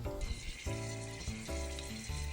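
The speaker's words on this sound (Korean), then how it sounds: "대창에서 나는 소리예요." Beef large intestine (daechang) grilling at home, giving off a steady, close sizzle with crackling bursts over a constant tonal hum.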